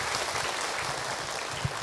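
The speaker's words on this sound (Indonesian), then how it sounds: "Tepuk tangan buat ibu yang bertanya." A brief patch of audience applause for a woman who asked a question at an Islamic sermon, a dense, moderately quiet clatter of many hands lasting under two seconds.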